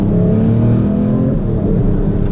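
A Lamborghini Reventon V12 growls loudly from close by, its deep engine note shifting in pitch as it runs through a downshift with no voices over it.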